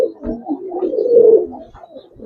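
Pigeons at a Bengali pigeon seller's, young Giribaz birds, cooing in a steady, close, fairly loud series of throaty rolling coos over about two seconds, with no talk.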